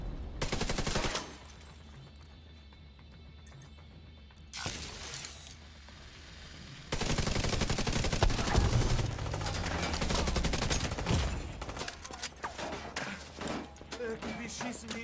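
Gunfire in The Division 2 shooter game, bursts of rapid shots and shattering impacts, loud in stretches with quieter gaps, over game sounds and a speaking voice.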